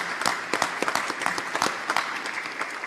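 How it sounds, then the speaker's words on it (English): A round of applause at a Rotary Club of Gainesville meeting: dense, steady clapping from a room of members, moderately close, sustained through the whole stretch with sharper individual claps standing out. "So let's give them a round of applause for the support of the foundation."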